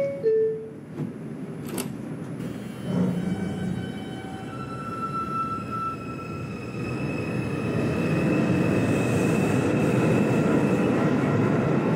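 An R142 New York subway train on the 5 local line departs a station. It starts with door chimes and a short electric whine, then the motors rise into a steadily louder, continuous rumble of wheels on rail as the train pulls away.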